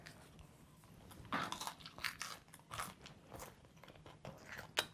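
Close bites into a crisp, crunchy homemade pizza crust give several sharp crackling crunches followed by chewing, fairly faint and with no talking.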